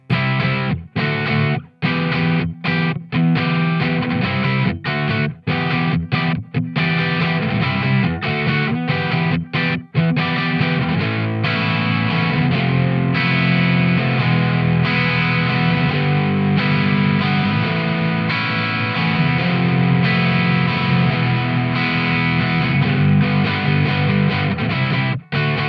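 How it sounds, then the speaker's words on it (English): An electric guitar played through a Mozztronics MD-1 Mew Drive distortion pedal gives a fat, heavily distorted rock rhythm, first in choppy stabs with short gaps, then sustained chords, loud and close with no voices. "More distortion."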